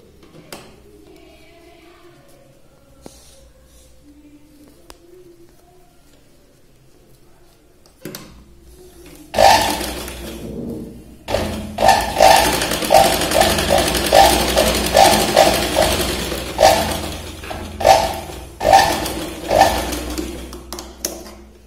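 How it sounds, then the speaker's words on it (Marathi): Sewing machine stitching along the waist side of a princess-cut blouse, starting after a quiet stretch and then running in repeated loud, close bursts with short pauses between. "आधी आपण इथे कमरेच्या साईडने दाब शिलाई लावूया"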